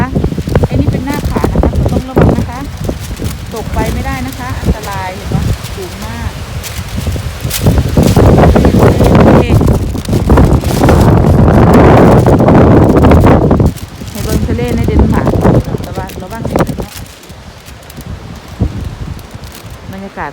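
Strong wind gusts through a snowy seaside forest in Denmark, roaring loudly and buffeting the microphone in surges, with someone talking over it for much of the time.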